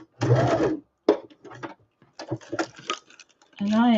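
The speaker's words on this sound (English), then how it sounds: "I just know how to make the sewing machine go straight." A sewing machine stitches with black thread in short bursts of rapid mechanical whirring and clatter, close and fairly loud, separated by brief pauses.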